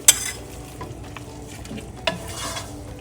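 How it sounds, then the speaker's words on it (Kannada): Dried chillies, onion, curry leaves and horse gram fry in hot oil with a soft, constant sizzle, broken by two sharp scrapes of a utensil stirring the pan. "ಸ್ವಲ್ಪ ಫ್ರೈ ಆಗಲಿ."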